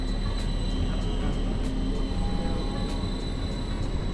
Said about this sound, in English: Can you see the train? Can you hear it?